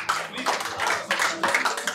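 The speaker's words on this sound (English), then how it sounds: "let's hear a big round of applause for both." An audience at a shire shootout match applauds the players, a dense burst of close hand clapping that swells and dips in waves across two seconds.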